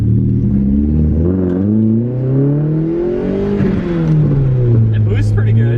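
A race car engine running on airplane fuel, with a lifter tick, revs up and down close by, its pitch swelling and dipping in long loud sweeps.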